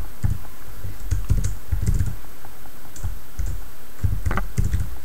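Code being typed on a computer keyboard: irregular bursts of close, crisp key clicks with short pauses between runs, loud and with no voice.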